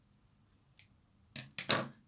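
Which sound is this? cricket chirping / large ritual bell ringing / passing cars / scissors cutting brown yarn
scissors cutting brown yarn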